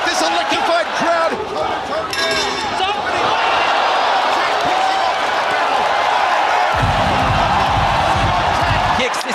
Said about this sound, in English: The oohs, the ahs, the gnashing of teeth, this electrified crowd.